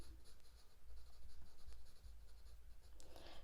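Pencil hatching strokes while drawing a poppy on paper, a steady close scratchy rhythm of repeated short strokes with no voices.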